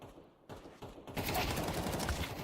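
Bursts of video game gunfire during a competitive match ending in a headshot, starting faint then erupting into a loud, dense volley for the last second or so.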